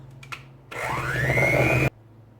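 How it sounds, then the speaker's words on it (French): An electric hand mixer beats margarine with sugar for a cookie dough, a steady whirring drone that starts abruptly, rises slightly in pitch as it runs for about a second, then cuts off, with a couple of faint clicks beforehand. "Là راح نبدا نخلط المارغرين مع السكر à l'aide d'un batteur بالباتور."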